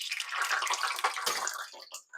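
Water spattering into hot frying oil while cooking pork schnitzel, a loud continuous sizzle and crackle that swells briefly and then breaks into sputtering pops near its end.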